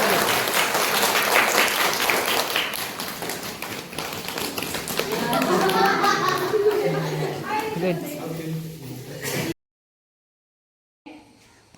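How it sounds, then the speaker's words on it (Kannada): A group of children at a bhajan mandir session clap their hands in steady repeated rhythm under loud voices of kids and an instructor, then it cuts to near silence. "ಚಪ್ಪಾಳೆ ಮತ್ತು ಚಪ್ಪಾಳೆ"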